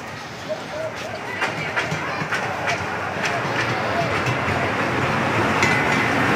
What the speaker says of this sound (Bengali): এক পাশ দিয়ে ট্রেন চলাচল করতেছে